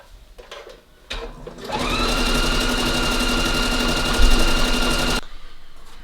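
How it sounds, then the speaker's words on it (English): A sewing machine stitches seams with a triple zigzag stitch: after a few faint clicks it starts up and runs as a loud, steady mechanical whir for about four seconds, then stops abruptly. "We're going to sew the seams on the triple zigzag"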